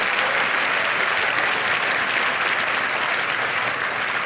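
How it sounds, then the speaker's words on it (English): Steady, full round of audience applause at an annual charity luncheon, a dense, even wash of many hands clapping that holds at constant loudness with no speech over it. "would you please raise your hand so we can acknowledge you with a round of applause"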